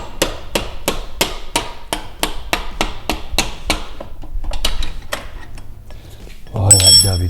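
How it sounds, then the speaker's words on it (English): Hammer knocking a motorcycle swingarm bolt out, about a dozen sharp metallic blows in a steady rhythm, then scattered softer taps and a brief louder clatter at the end, with some talk. "the last step, which is hitting our last swing arm bolt out"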